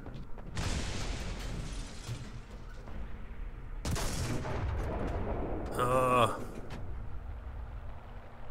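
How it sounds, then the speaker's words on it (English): Tank gunfire in War Thunder, with a Japanese Type 4 Chi-To medium tank in battle: two loud booming cannon shots about three seconds apart, a mechanical clatter after them, and someone talking over much of it. "Oh, is that somebody else firing at me?"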